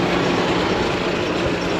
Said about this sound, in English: Alright, we're on the tram.